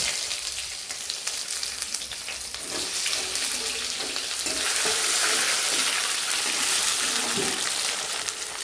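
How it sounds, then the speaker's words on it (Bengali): Onion and tomato frying with whole cumin in a pan, a steady close sizzle that grows louder midway, with stirring scrapes and a faint running-tap wash underneath. "এর ভেতরে আমি পেঁয়াজ আর টমেটো দিয়ে একটু কষে নেব"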